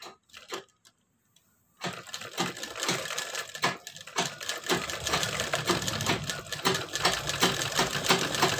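A sewing machine stitches a seam on a readymade blouse for fitting, starting after a few clicks and a pause, then running in quick, close, rattling bursts that build to a steady, loud run.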